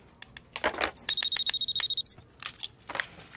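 A telephone bell rings in a quick burst of rapid, even trills, close and fairly quiet, among light clatter and movement in a room.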